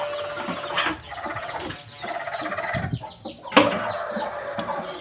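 A hen clucks among a brood of day-old chicks, with steady high peeping and occasional louder calls close by, busy and continuous throughout.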